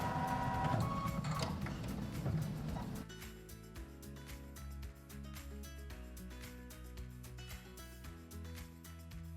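Embroidery machine stitching lace placement lines, a rapid mechanical needle chatter with steady rhythmic ticking and a whirring motor, close and continuous.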